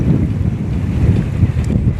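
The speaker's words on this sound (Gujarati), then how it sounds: "જો હજી એક આવી છે બોટ" Small passenger boat coming in to an island off a windy beach, its low engine rumble mixed with strong wind buffeting and surf washing nearby, loud and continuous.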